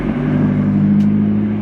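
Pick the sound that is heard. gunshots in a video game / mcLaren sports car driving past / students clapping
mcLaren sports car driving past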